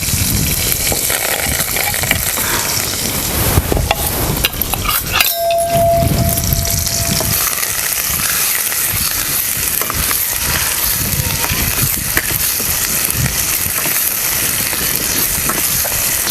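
Chopped tomato and coriander dropped into hot oil for a village-style egg curry, giving a loud, continuous close sizzle and crackle with occasional stirring clatter.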